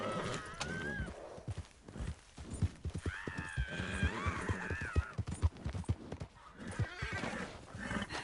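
Horse hooves clip-clop rapidly while a horse whinnies in Red Dead Redemption 2, with a busy, dense mix of game sounds underneath.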